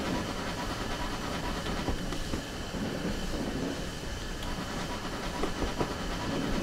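Terrier 150 steam locomotive on the Isle of Wight Steam Railway in Train Simulator Classic, a steady rumbling run with hiss and faint rail clatter throughout, moderately loud and continuous with no talk.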